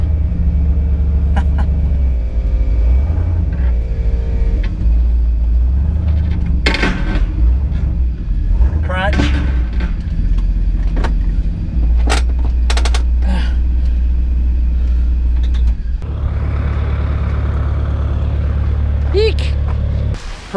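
Neighbor's vehicle rolling down a driveway near a 1978 Bronco, a loud low rumble with a passing engine swell, heard close with wind buffeting and occasional knocks.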